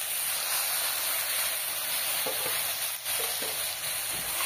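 Spices with salt and turmeric sizzling steadily in oil in a frying pan, a loud continuous hiss close by, with a few soft stirring knocks partway through and no talk.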